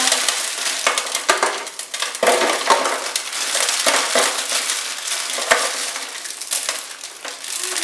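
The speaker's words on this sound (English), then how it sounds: "we're just going to crack these noodles up and drop them down in the bowl" Dry oriental ramen noodles snap and crunch as they are broken up and dropped into a bowl for a salad. The loud, continuous, brittle crackling sits close to the mic, with no talking.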